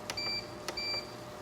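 A stove gives two short electronic beeps spaced about half a second apart as the heat is turned up, with quiet background hum around them.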